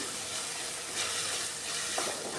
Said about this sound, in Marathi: त्यामध्ये मी दोन टोमॅटो हे बारीक कट करून यामध्ये मी टाकते तेही आपल्याला कांदा आणि तेलामध्ये चांगले असे मिक्स करून घ्यायचं आहे